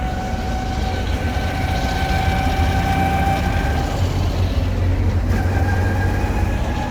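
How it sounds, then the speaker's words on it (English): Steady mechanical whine of a Willys Jeep CJ5 transmission in third gear over a loud Chevy 4.3L V6 engine rumble, the pitch shifting slightly partway through, no voices. "the big thing you can probably hear is the transmission"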